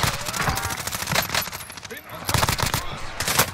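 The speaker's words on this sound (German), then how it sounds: "Irgendwer hat noch auf mich geschossen" Rapid bursts of automatic gunfire in the video game Warzone rattle loudly in quick succession, with several sharp volleys and a short lull in the middle.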